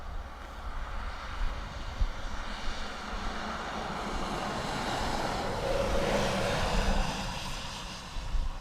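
A jet taking off from runway 28 right at Dublin Airport in soggy weather, a steady broad engine roar that builds slightly toward the middle and holds, heard alone from some distance.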